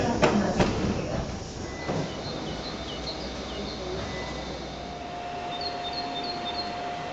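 A historic FGC "Granota" electric train runs along its rails, a steady rumbling roll with wheel clatter and occasional high squeals, close by and continuous throughout.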